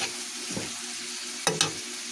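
Ginger, garlic and onion sautéing in a pan for seashell adobo, a steady close sizzle with a few louder stirring scrapes.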